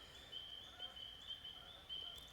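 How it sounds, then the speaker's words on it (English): Spring peepers, tiny tree frogs, call at dusk from a wetland heard by kayak, a steady high-pitched chorus of repeated peeps, fairly faint and distant, running continuously with no talk. "I can hear some spring peepers."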